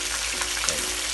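Pieces of a two-foot-long baim eel sizzle in hot oil as they fry, a soft, steady crackle heard close but quiet over a brief moment.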